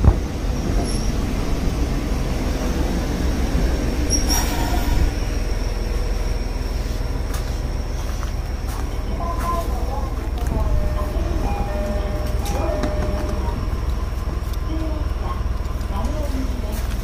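A local train rolls along rails on a Hokkaido line, a loud, steady rumble with faint wheel squeals and rattles throughout.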